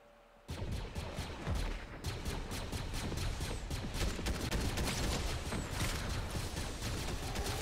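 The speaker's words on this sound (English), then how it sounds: "Oh, that's an airstrike." Airstrike explosions and gunfire in the video game Fortnite, a dense, continuous barrage of rapid cracks and booms that bursts in abruptly and stays loud throughout.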